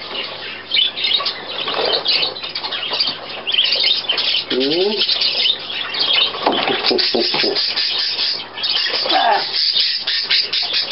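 A pet budgerigar squawks and chirps up close in rapid, scratchy bursts, mixed with rubbing and scraping noises on a cage or wooden box, with no talk over it.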